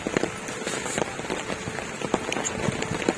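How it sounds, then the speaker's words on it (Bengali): Heavy rain pours in a park, a steady dense patter of drops on surfaces with occasional sharper splashes, close and continuous throughout. "দেখতে পাচ্ছ গাইস কিরকম বৃষ্টি পড়তেছে"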